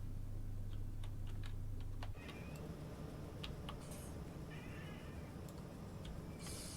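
A cat meows indoors beside a running train simulator, with a few short meows and faint ticking and clicking sounds over a steady low hum.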